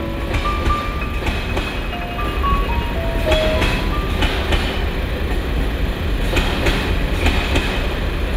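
A train passing on the railway line opposite a building in Terezín, a steady rumble with rhythmic wheel clatter and brief high squeals, moderately close and continuous, with no voices.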